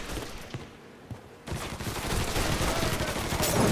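Gunfire from Mafia 3: scattered shots over a quieter stretch, then a sudden loud burst of rapid, overlapping fire that keeps building, like several guns shooting at once close by.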